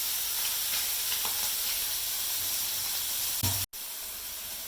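Egg masala sizzles and fries steadily in a pan, with scraping stir strokes throughout, then a brief clatter and a sudden short gap before the frying resumes.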